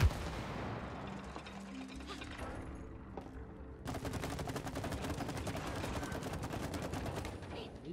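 Rapid gunfire from the co-op video game It Takes Two, with bursts of shots and a dense, continuous volley in the second half under game music and brief exclamations.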